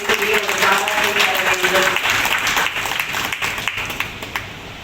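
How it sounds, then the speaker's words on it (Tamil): A full hall audience breaks into dense, steady applause that tapers slightly toward the end, with a voice briefly heard over the clapping at the start. "அவருக்கு அரங்கம் நிறைய நிரம்பிய கரகோஷத்துடன்"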